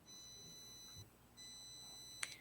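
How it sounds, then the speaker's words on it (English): Two steady electronic beeps sound, each lasting about a second with a short gap between, followed by a brief sharp click; quiet background. "that beeping."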